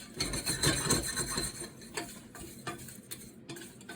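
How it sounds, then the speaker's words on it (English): Whole biryani spices, star anise among them, toasting over medium heat in a pan while being stirred, a steady light rattle and scrape with soft ticking taps, close and moderate in level, no voices. "I have it over medium heat, so I'm going to stir this it's going to take about a minute to toast."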